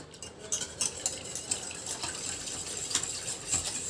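A sweet potato mixture stirred with starch in a bowl, giving soft wet scraping and sloshing strokes in an irregular rhythm, close and moderately quiet, with light clinks of a utensil.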